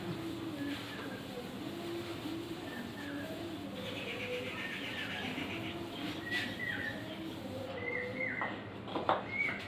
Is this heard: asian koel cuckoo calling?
yes